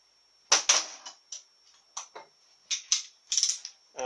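A ratchet tightens a lock nut on a cast-iron Chevrolet Powerglide two-speed transmission during reassembly, with close, crisp clicking bursts in short irregular runs and brief pauses between them.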